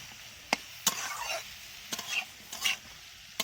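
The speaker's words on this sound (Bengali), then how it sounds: "ভালো করে ভাজা ভাজা করে নিচ্ছি।" Mixed vegetables stir-fried in a pan over moderate heat, a soft background sizzle broken by several sharp scraping knocks of a spatula against the pan.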